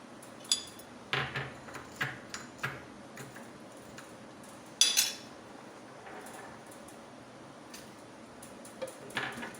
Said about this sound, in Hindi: ये थोड़ी सी मैं आइस डाल रही हूँ